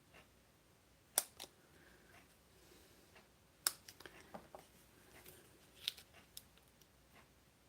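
Scissors cut a small piece of dimensional paper, a few quiet, sharp snips scattered irregularly, with soft rustling between them in a hushed room.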